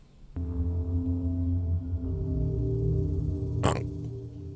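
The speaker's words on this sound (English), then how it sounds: "You like the sound of that? You like my burp?" A long, loud, drawn-out burp sits close to the mic, a low throaty rumble holding for several seconds before a brief sharp rasp near the end, with no other voices.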